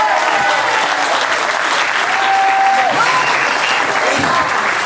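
A large live show audience gives loud, dense applause for a singer, a roaring continuous wash of clapping with crowd noise and a brief whistle-like tone mixed in.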